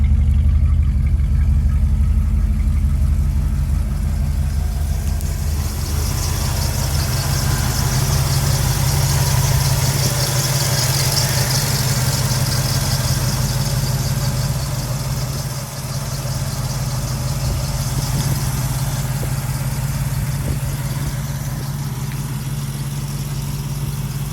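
A 1971 Ford F100 pickup with a 390 V8, automatic transmission and dual exhaust idles with a deep, steady, throaty rumble, heard close and continuous for about 24 seconds with no talking.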